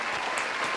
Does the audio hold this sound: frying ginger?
no